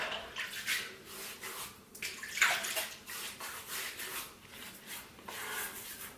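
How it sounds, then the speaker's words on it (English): Quiet repeated splashes of hot water scooped and patted onto a face by hand before shaving, irregular and close, with no talking. "So now I'm just going to apply some hot water to my face"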